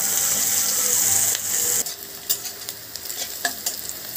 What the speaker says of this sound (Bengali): পেঁয়াজটাকে আমি হালকা করে হালকা বাদামি হওয়া পর্যন্ত ভাজলাম